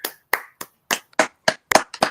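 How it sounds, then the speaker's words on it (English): A handful of sparse, separate handclaps at a small community talk about autism, about nine claps in an uneven rhythm, close and clear with no talking. "major applause to him."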